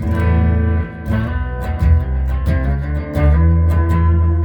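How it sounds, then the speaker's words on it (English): Sustained electric guitar notes and chords through a Boss Katana MkII amp's doubler effect, a thickened, doubled tone, played alone at a steady moderate volume. "Oh, that's like a doubler right there."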